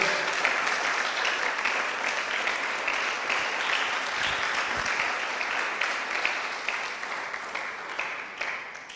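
Sustained applause from a large church congregation at a Sunday service, steady and full for several seconds before easing slightly toward the end.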